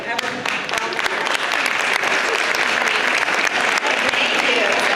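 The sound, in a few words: audience applauding volunteers at a drama showcase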